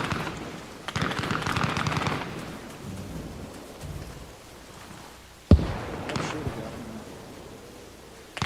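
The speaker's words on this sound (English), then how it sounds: "I don't see what you guys are shooting at." Bursts of automatic gunfire and single rifle shots in the military shooter game Arma Reforger, some loud and close, others more distant, with a sharp nearby crack partway through.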